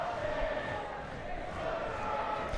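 Rival university supporters at a varsity boxing event fill a hall with steady, dense crowd noise, exchanging sung chants and cheers in a continuous roar that holds at an even level throughout.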